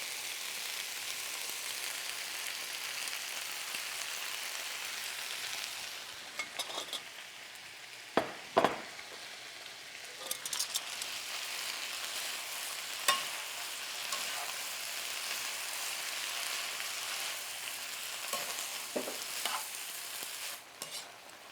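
Bok choy stir-frying in a pan for a beef stir-fry, a soft continuous sizzle with scattered utensil scrapes and a few sharp clinks, close and fairly quiet with no voices.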